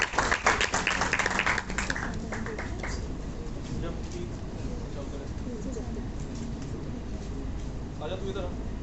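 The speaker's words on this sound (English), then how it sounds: "Keep clapping." A crowd applauds at a college tech innovation final round, loud dense clapping at first that soon thins and fades under ongoing voices and room noise.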